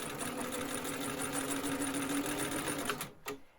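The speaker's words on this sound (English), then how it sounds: "I do a little bit of start and stop sewing" Sewing machine stitching a narrow hem with a narrow hem foot, a steady close mechanical whir running without pause, then stopping abruptly with a couple of brief clicks near the end.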